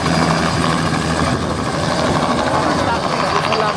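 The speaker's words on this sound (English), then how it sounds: "So we're going to join the queue and crack on the helicopter." Helicopter rotor and engine at the Goodwood motoring event, a steady broadband thrum with low pulsing held at constant loudness throughout, with faint voices in the background.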